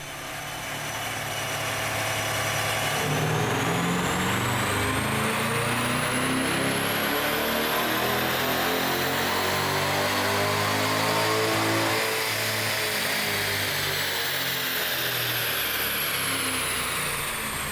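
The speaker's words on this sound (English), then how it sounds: "Up first, baseline dyno runs to get our starting point for horsepower and torque." A C8 Corvette Stingray engine pulls hard through a baseline dyno run, its loud, continuous roar climbing steadily in pitch over many seconds before easing off near the end, with no talk.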